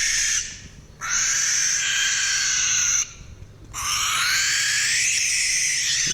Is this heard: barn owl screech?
yes